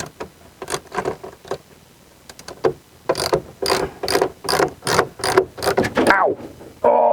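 A hand ratchet clicks in quick bursts while undoing bolts on a Citroen SM parts car, sparse at first, then a denser run of close, sharp ratcheting strokes.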